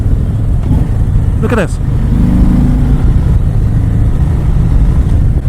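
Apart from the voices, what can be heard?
Harley-Davidson Sport Glide 107 motorcycle engine, stock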